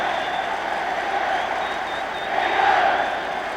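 Steady applause and crowd noise fill a football stadium during England v Czechoslovakia, swelling a little toward the end, loud and continuous with no talk over it.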